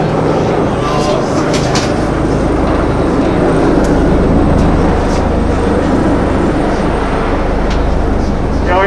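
A helicopter approaches near a hospital across from condominiums, giving a loud, steady rumble and broad roar that holds at a constant level for the whole stretch.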